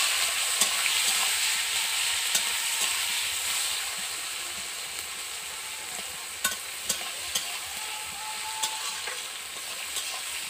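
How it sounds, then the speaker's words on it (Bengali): Chopped onions and white cumin fry in a pan with a steady, bright sizzling hiss that runs throughout, broken by occasional sharp clicks of stirring. "পেঁয়াজটাকে ভালো করে ভেজে নেব।"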